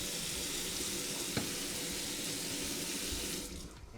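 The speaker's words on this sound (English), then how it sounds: "Just rinsing that out." Tap water runs steadily into a sink while something is rinsed out during homebrew preparation, a continuous close splashing rush that thins out near the end, with no talking.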